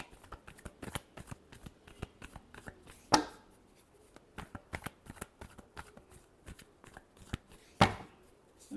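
Tarot cards being shuffled by hand in a series of quick, crisp riffles and taps, with two sharper louder snaps along the way, recorded close with no talking.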